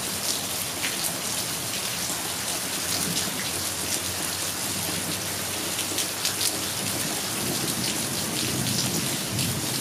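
Steady, loud rain pours on surfaces throughout a storm while low thunder rumbles underneath, with no voices.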